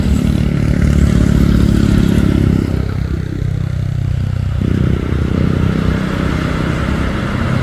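A white Hino truck hauling a trailer labors up a steep hill at Bukit Kodok, its engine droning loud and continuous with a heavy low rumble, the pitch dipping briefly midway as it strains on the climb.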